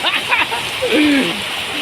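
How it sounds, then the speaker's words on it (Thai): Rain patters and splashes in a continuous hiss while someone talks briefly over it. "นั่งฟังเสียงฝนนะครับ"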